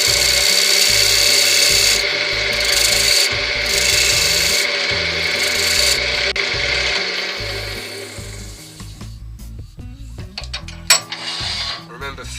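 Wood turning on a lathe as a gouge cuts a cove into a turned wooden Christmas snowman inside-out ornament: a steady, loud rasping scrape that thins out and grows choppier near the end.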